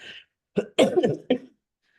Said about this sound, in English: this is my little lingering cough here